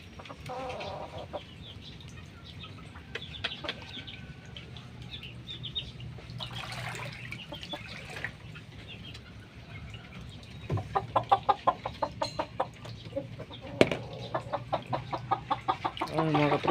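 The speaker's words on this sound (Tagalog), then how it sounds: "Dito yung manok namin" Chickens cluck around a flood-hit yard with standing water, their short rhythmic clucks growing louder and more frequent in the second half over a low steady background hum.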